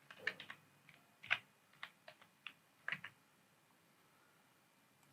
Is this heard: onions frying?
no